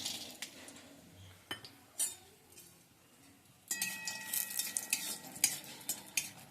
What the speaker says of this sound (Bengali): বড়িগুলোকে আগে আমি ভেজে নিচ্ছি